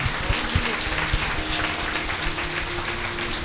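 A church congregation at a shrine claps loudly together, a dense, sustained patter of many hands filling the hall with no pause.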